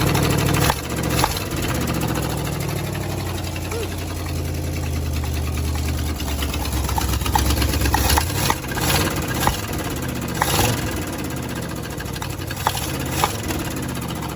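A 1966 Mercury engine that had sat for 30 years cranks and catches, a loud rough mechanical clatter with low rumbling that grows uneven and knocking, irregular sharp bursts continuing throughout without talk.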